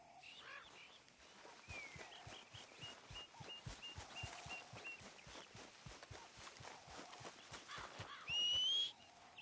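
A horse's hooves clop in a PS4 video game, a steady, quiet rhythmic beat with a brief whistle-like tone near the end.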